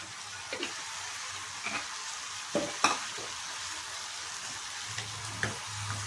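Turmeric and salt fry in oil for a Naati-style chicken fry, giving a steady low sizzle. Occasional scrapes and taps come from the stirring spoon, and there is no talk.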